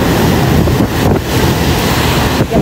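Strong wind from Super Typhoon Uwan roars in Baras, Catanduanes, heavy rain in it, a loud continuous buffeting rush that batters the microphone with brief lulls.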